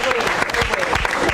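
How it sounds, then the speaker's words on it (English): Audience applause for a woman on a discussion panel, a dense, steady clatter of many hands clapping at close range, filling the whole short burst without letup. "I think we should all give her a round of applause"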